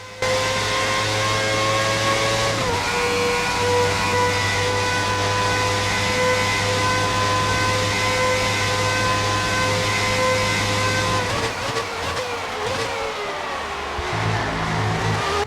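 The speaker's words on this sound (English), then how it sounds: "The wonderful sound of Formula One in 1990, the early 90s." A 1990 Formula One car engine in the F1 2019 video game screams at high revs, a loud sustained whine that shifts pitch with gear changes and drops sharply near the end.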